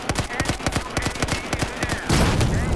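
Rapid bursts of Battlefield 4 gunfire crack in quick succession, loud and close, ending in a denser, noisier blast of shooting.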